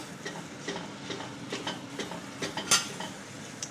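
Eggs fry in a hot pan, sticking a little, with a low sizzle under frequent light clinks and scrapes of a utensil against the pan.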